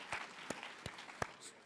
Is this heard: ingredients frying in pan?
no